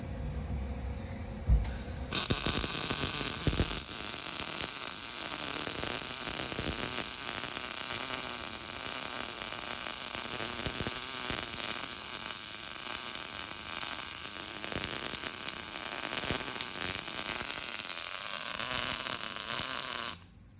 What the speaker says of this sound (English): I'm actually gonna use this machine to weld the gate once we bring the generator.